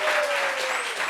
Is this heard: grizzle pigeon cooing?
no